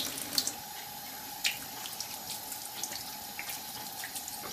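Tap water runs steadily into a sink as raw pork fat and skin are rinsed under it, a soft continuous stream broken by a few faint splashes and drips, close and quiet with no talk.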